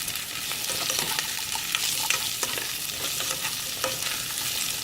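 Zucchini sizzles steadily in a lightly greased pan, a close, continuous frying hiss with scattered soft pops and faint stirring scrapes, no voices present.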